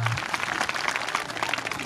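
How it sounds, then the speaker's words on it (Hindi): Dense, steady crowd applause welcoming guests at a Veer Tejaji temple program, a continuous wash of many hands clapping at a moderate level. "जोरदार तालियों से इनका स्वागत।"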